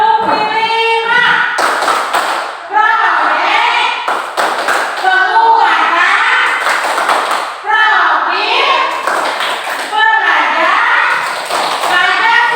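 Children in a school activity perform the tepuk firman chant, with sharp rhythmic group claps recurring steadily beneath loud, close chanting and speaking voices.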